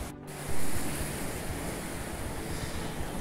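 Ocean waves wash along the Iporanga coastline in a steady broad surf roar, with a soft swell early on and light wind noise over the microphone.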